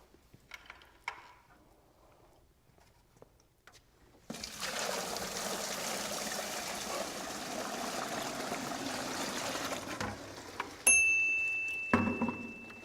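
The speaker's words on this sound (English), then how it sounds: "how fast water goes through the Hydraway bucket here with double rows of 6-inch" Water rushing steadily through a doubled-up row of 6-inch Hydraway drainage pipe in a bucket flow test, a loud continuous broadband gush that starts abruptly after quiet and runs for several seconds before cutting off with a few clanks.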